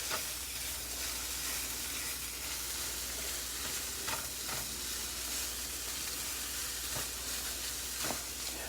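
A sauce with milk stirred in a hot pan, a constant soft sizzle and hiss with occasional scraping clicks of the utensil, close and moderately quiet throughout.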